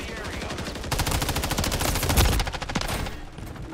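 Loud, rapid automatic gunfire in Call of Duty, a dense run of close shots swelling to a heavier burst midway, then tapering into scattered cracks.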